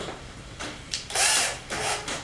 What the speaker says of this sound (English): chuck it up in my cordless drill